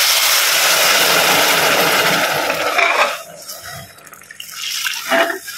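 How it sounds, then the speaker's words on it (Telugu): Water poured from a tap or jug into a pot for moong dal payasam over fried moong dal, a steady loud rush for about three seconds that then breaks into softer splashes and a brief final gush. "నేను ఇప్పుడు ఇందులో వాటర్ వేసేస్తాను."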